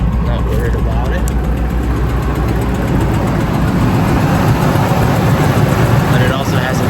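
A Ford Expedition engine idles roughly with a slight misfire, a loud steady low rumble close by that runs the whole time while someone talks over it.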